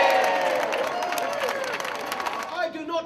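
At a launch event, an audience claps in a moderate, continuous patter of applause while a voice speaks over it.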